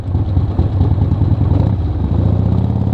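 A Harley-Davidson Ironhead Sportster engine idles close by with a loud, lumpy, uneven low thump, mechanical clatter riding over the steady beat.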